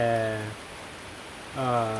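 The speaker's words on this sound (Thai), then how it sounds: "ตอนนี้ที่บ้านแมงบี้นะครับฝนตกนะครับ" Rain falls at home in a soft, constant hiss, with a voice talking over it at the start and end.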